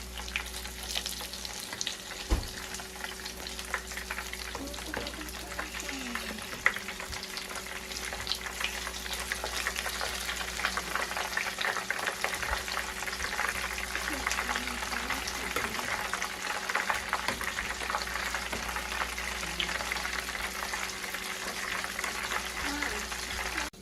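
Beef wontons frying in oil, a continuous crackling sizzle close by with occasional knocks as they are flipped, and voices talking faintly underneath.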